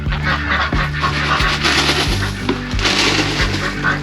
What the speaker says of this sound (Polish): Karmimy nasze owieczki i kaczki.